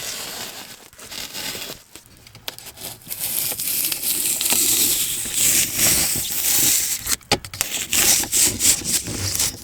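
Styrofoam insulation board being cut to fit during a mobile home rebuild, with close, irregular rasping and crinkling strokes that swell louder midway and continue in uneven bursts.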